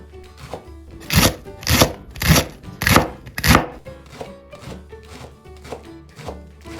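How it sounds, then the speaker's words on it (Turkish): A knife chops leeks rapidly on a cutting board, five loud strokes followed by a series of lighter, quicker taps, close and without talk. "Yeşil yapraklarıyla birlikte pırasalarımı ince ince doğruyorum"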